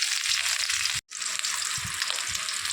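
Two fish frying in a pan for a sour fish-and-mango dish, a loud dense hiss of hot oil that cuts out abruptly for a moment and then resumes, with soft low thumps underneath.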